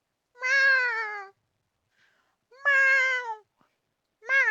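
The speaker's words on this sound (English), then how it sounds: "began panically meowing again" A black cat meows loudly and insistently three times in separated calls, each a long harmonic wail, the last one cut short, with silence between and no talking.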